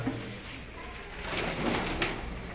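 Soft cooing of high-flying pigeons repeats against a noisy background of rustling and shuffling, fairly close but quiet.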